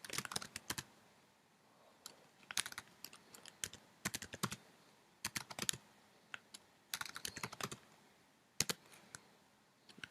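Someone is typing quickly on a computer keyboard, close and clear, in uneven bursts of rapid key clicks with short pauses between them.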